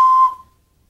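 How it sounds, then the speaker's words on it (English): A single short, shrill whistle blast at a baseball game rings out loud and close, then fades quickly into silence. "when I take out my lucky whistle at a baseball game,"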